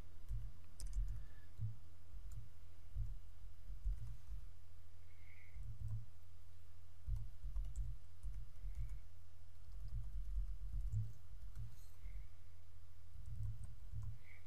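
A computer keyboard is typed on steadily while code is entered, soft irregular key clicks running in bursts throughout, quiet and close with no talking.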